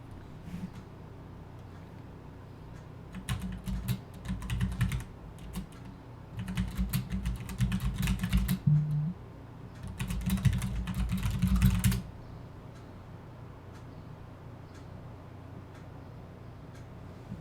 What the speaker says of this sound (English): How loud is my keyboard as I type that? It's probably so loud because the microphone's right there.